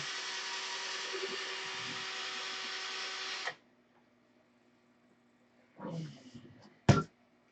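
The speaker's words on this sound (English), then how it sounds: "Gonna keep buffing until all the compound's gone." A small Dremel buffer whirs at high speed for about three and a half seconds while buffing off polishing compound, then cuts out to near silence before brief handling clatter and a sharp knock.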